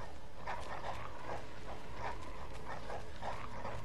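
In Bloodborne, hostile dogs bark repeatedly in a loose rhythm, about half a dozen sharp barks spread across a few seconds, moderately distant over a steady background drone.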